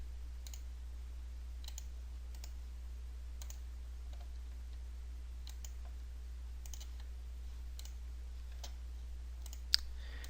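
Sparse, faint computer mouse clicks come one at a time at irregular intervals over a constant low electrical hum in a quiet room.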